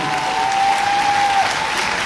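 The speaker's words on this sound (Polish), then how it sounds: "I wielkie brawa pokaż się Karol." Loud, dense audience applause at a community event, a continuous wash of many hands clapping for about two seconds with a faint steady tone running underneath.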